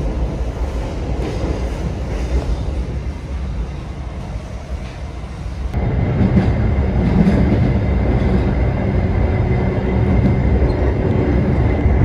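Aboard the Baturraden Express in Indonesia, a loud, continuous rail rumble grows heavier and boomier partway through as the train enters the nearly one-kilometre Sasak Saat tunnel.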